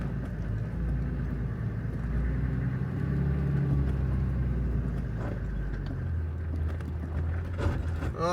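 Cruiser 4x4 creeping down a steep off-road trail slope with tires slipping, a steady low engine rumble and drivetrain drone from inside the vehicle, moderately quiet with no talk.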